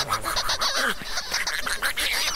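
Small ducks quack and squawk in a busy, overlapping chatter, fairly close and continuous throughout the short stretch, with no talking.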